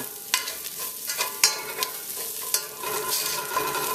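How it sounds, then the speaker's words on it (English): Garlic and shallots fry in vegetable oil for a lamb and coconut curry, giving a steady close sizzle broken by sharp scraping stirs and clicks. "we really want this to soften up the garlic as well as that shallots"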